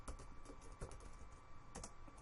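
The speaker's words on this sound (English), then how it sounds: "typing and talking" Quiet keystrokes on a computer keyboard tap in an uneven run, with a few louder clacks standing out over a faint steady electrical hum.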